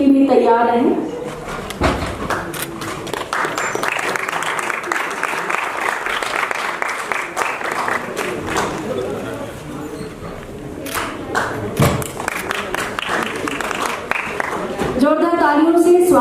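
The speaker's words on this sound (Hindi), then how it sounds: "जोरदार तालियों से स्वागत की कड़ी जुड़ी हुई है।" Loud, sustained applause from a theatre audience welcoming a drama troupe onto the stage, steady clapping throughout with a brief swell near the end while a voice talks over it.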